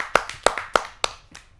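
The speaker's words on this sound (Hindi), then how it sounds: "आप सबकी जोरदार तालियों से।" Scattered hand claps greeting a poet at a Hindi kavi sammelan poetry gathering, about six sharp separate claps in an uneven rhythm, close and fairly loud, with no talking.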